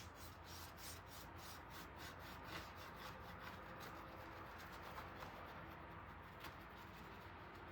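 Steady dry rubbing as paint is worked onto a thrift store picture frame, a continuous close scratchy friction with quick repeated strokes, no talking.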